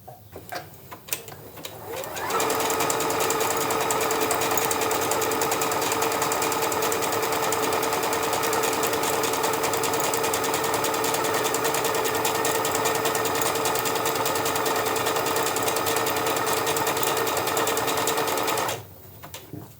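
Sewing machine stitching appliqué onto a tote bag, a loud continuous motor hum with rapid needle chatter running about sixteen seconds before stopping, with brief quieter handling sounds at the start and end.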